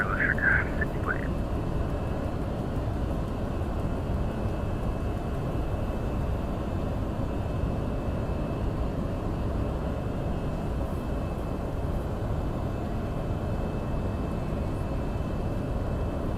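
A Luxair Boeing 737 MAX 8 airliner being pushed back from the gate, a steady, loud broadband rumble and hum of engines and aircraft systems holding unbroken throughout, with a few faint high chirps near the start.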